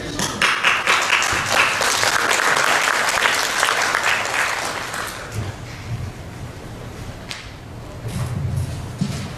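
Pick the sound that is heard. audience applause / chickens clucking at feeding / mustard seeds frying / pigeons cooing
audience applause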